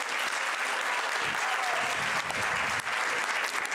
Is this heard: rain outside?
no